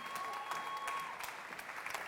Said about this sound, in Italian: Però facciamo un applauso a tutti.